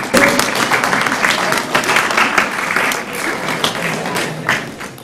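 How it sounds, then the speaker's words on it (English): Schoolchildren at a school board meeting clap for their parents, with scattered, uneven clapping that swells at the start and tapers off, a few sharper claps standing out. "So boys and girls, you applaud your parents now."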